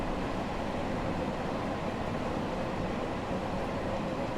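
Train running in the video game Train Sim World 6 on a London route from Elephant & Castle to Harrow & Wealdstone, a steady broadband rumble and rail roar throughout with no voices.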